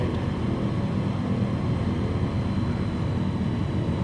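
Steady, close engine and propeller drone of a bush plane coming in to land in Microsoft Flight Simulator 2020, a constant broadband hum with no talk over it.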